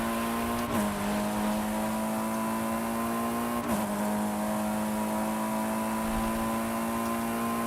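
An expensive car driving in the video game Forza Horizon 5, its engine holding a steady loud drone with two brief dips as it shifts gears, without any talking.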